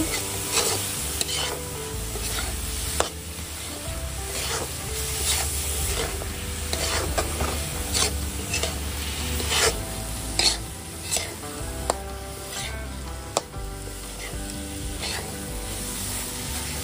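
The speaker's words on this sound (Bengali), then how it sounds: "দেখুন এইভাবে ভালো করে নাড়িয়ে ভালো করে শুকনো করে নেব" Chhena mixture for malai sandesh, made from split milk, is stirred in a pan to dry it out, giving a low steady sizzle with frequent clicking scrapes of the spatula against the pan.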